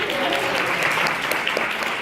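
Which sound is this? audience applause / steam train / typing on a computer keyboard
audience applause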